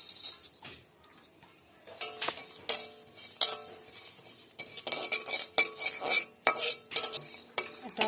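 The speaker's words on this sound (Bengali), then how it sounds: "এগুলো সব একটু কড়াইতে ভেজে নেব।" Bay leaf, coriander, cumin and whole garam masala dry-frying in a kadai, a quiet start giving way to repeated close metal spatula scrapes and clinks over a light sizzle.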